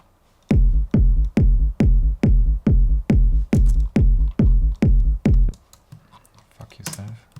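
A layered techno kick drum plays back alone, about eleven punchy, booming hits with a sharp transient and deep sustained body in a steady four-on-the-floor pulse, then stops, leaving faint room noise and a brief scrape.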